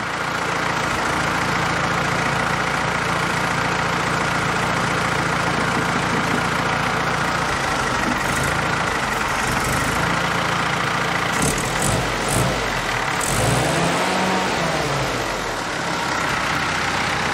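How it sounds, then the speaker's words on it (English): An old carbureted car engine idles steadily for a long stretch, with an uneven putter and occasional hesitations in its low rumble. "It's still doing that little putter and hesitation."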